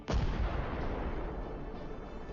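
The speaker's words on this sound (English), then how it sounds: "A massive explosion." A drone strike on an armored personnel carrier sets off one heavy, booming blast in a war zone in Ukraine. It hits with a sudden loud crack and then rolls off into a long, rumbling decay.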